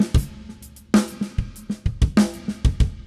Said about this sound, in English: normally the snare sounds like this